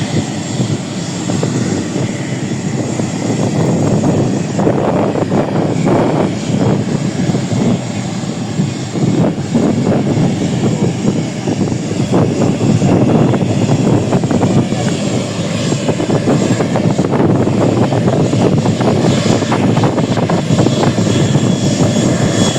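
Kenya Airways airliner taxiing at Kamuzu International Airport in Lilongwe, Malawi, a loud, continuous engine roar and whine close by, steady throughout with no speech.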